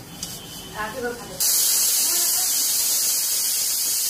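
A pressure cooker holding meat and potatoes bursts into a loud, steady hiss of escaping steam that runs to the end, after a moment of a quiet voice and kitchen sounds.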